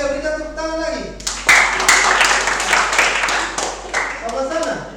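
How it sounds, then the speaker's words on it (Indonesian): Hands clap together in a classroom, a burst of crisp applause that starts suddenly after a teacher's speech and runs for a few seconds before fading back into talk. "Oke, berikan tepuk tangan lagi."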